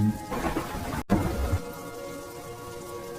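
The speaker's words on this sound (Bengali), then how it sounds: "একটু বৃষ্টিটা কমুক, তারপর দুজনে মিলে নেমে মাছ ধরবো।" Rain falls in a Bengali cartoon as a steady, even hiss of drops, broken by one brief silent gap, with no voices.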